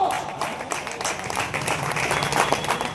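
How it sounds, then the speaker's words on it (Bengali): Audience applause at a blood donation event, with a dense, steady wash of clapping that continues through the whole short stretch. "অপূর্ব সুন্দর করতালি হোক।"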